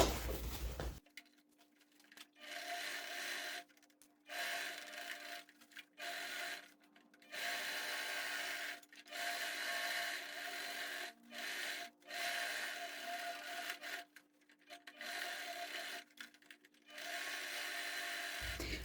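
A sewing machine stitches a large thermal carry bag, its motor whirring in repeated bursts of a second or several seconds, separated by short silent pauses, close and moderately loud.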